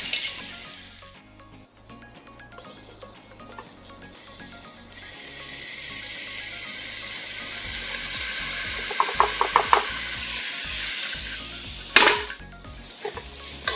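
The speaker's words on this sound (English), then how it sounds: "Give this a nice stir." A spoon stirs lobster étouffée simmering in a roux with coated vegetables, giving a steady soft scraping and gentle sizzle close by, with a few sharper clinks of utensil against the pot toward the end.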